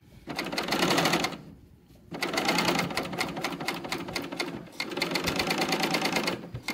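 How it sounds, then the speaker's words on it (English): A serger overlocking the rough edges of dress fabric, a fast, close mechanical whir running in three steady bursts separated by brief pauses. "We're going to head right over here and just serge it up."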